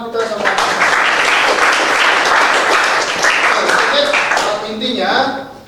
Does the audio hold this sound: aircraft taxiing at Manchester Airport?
no